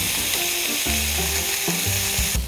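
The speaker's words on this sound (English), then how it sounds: "Some sort of satisfaction I get when I hear that sizzling sound" Steady, loud sizzling and crackling of chicken breast frying in a pan, continuous throughout with no voices.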